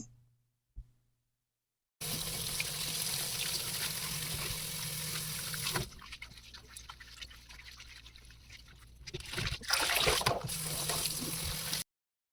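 Tap water running over cut stem amaranth and prawns in a kitchen: a steady splashing stream that stops, with dripping and handling, then flows again before cutting off.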